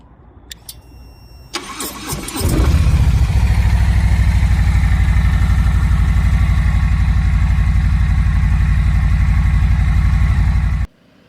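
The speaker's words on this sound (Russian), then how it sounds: "Но прям такой трушный, минималистичный Харли с гигантским движком." A big-engined, minimalist Harley-Davidson motorcycle fires up after a few clicks and cranks, then settles into a loud, steady, throbbing idle close by that runs unbroken until it cuts off abruptly.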